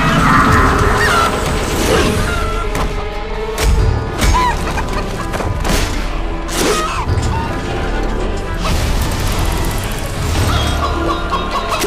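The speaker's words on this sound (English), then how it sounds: "Chicken's having a bad day." Chicken squawking and honking amid loud, busy game sound in Fable 3, with several sharp crashing hits and thwacks breaking through a dense, constant mix of noise.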